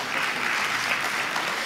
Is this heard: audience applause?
yes